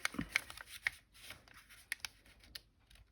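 Paper being folded by hand for a journal flip, a few crisp rustles and creases close up, quiet and intermittent with soft handling noises between.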